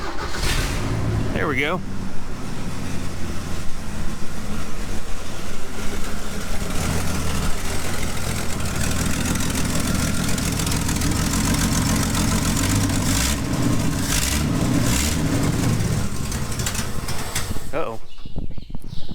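An old crew cab truck's cold engine, choke set, cranks and catches, then runs with a steady, throaty rumble close by; someone briefly speaks over it.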